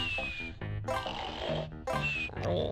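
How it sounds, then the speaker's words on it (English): Banjo snoring loudly in the video game Banjo-Tooie: repeated cartoonish snorts and grunting snores, each followed by a high whistling exhale, in a steady rhythm close up. "Man, Banjo snores very loudly."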